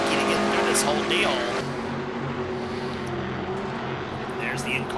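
A Ford stock car's in-car engine roaring at Bristol during a night race in a video game, a steady loud drone with shifting pitch, under a commentator's voice.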